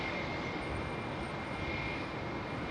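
A Qantas airliner departing Heathrow gives a steady, broad jet roar that stays distant to moderate and even throughout, with a faint high whine on top and no talking.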